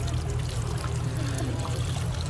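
Hot spring water pours steadily at an onsen in Gunma, Japan, a continuous close splashing flow with no talk over it.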